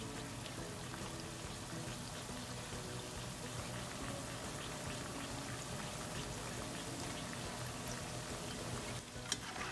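Tortilla chips (totopos) bubble and crackle in hot oil for chilaquiles, a steady dense fizzing spatter that holds evenly throughout at moderate loudness, close by with no talking.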